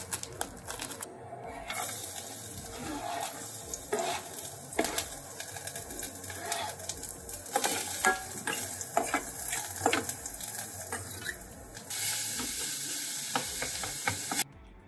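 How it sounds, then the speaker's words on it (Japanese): Garlic and minced pork sizzle and crackle steadily in a hot pot, with occasional scraping and stirring sounds and no talking. "鍋にニンニクとこの豚ミンチを入れます。"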